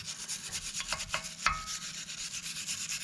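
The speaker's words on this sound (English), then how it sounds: "get some kind of a wire brush and do some scraping here of the disc" A wire brush scrubs corrosion from the brake rotor disc of a Tesla Model 3, close rhythmic rasping strokes with a couple of sharper metallic scrapes midway, no talking.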